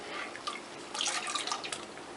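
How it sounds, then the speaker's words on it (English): Lye solution for cold process soap pours into an oil and clay mix, a soft, continuous liquid trickle with light splashing and small drip-like spatters, close by and fairly quiet. "I'm going to go ahead and add my lye solution"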